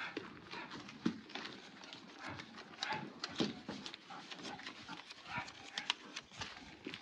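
Horse's hooves clip-clopping faintly on the ground in an irregular series of soft knocks over a low background hum.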